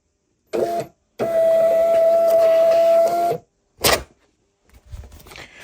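A 3D printer runs in short bursts: a brief whir, a pause, then a steady motor drone with a sustained tone for about two seconds, followed by a short movement and quieter clicks, close by with no talking.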